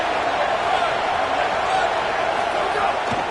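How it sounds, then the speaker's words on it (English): Loud stadium crowd roaring steadily during a fourth-down football play, a dense continuous wash of noise with no breaks, commentary voices blended underneath. "this crowd is making it miserable on this offense"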